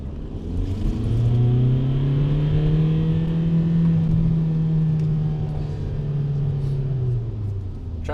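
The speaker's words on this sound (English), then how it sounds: "we'll do 3rd and 4th gear pulls if the roads or the track is half decent" VW TDI diesel car accelerating hard through a steady gear pull, a deep sustained engine drone that rises slightly in pitch and then eases, loud and close with no talk.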